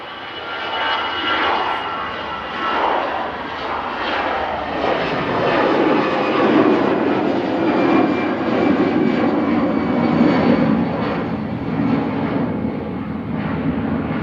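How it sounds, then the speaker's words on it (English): An air tanker jet lands on runway 23 left, its engine roar swelling loud and close with descending tonal whines as it sweeps past, then easing slightly toward the end. "Air tankers touching down on 2-3 left"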